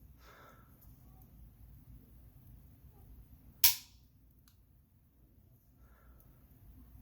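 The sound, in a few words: Geissele/TriggerTech AR-15 two-stage trigger dry-fire click and reset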